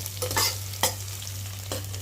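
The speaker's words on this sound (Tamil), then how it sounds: "இடித்து வச்ச பூண்டை வந்து நம்ம சேர்த்துக்கலாம். சேர்த்துட்டு அதை அப்படியே நல்லா வதக்கிக்கலாம்." Crushed garlic sautéing in hot oil for a Tamil fish curry, a constant sizzle punctuated by a few sharp spatula stirs against the pan.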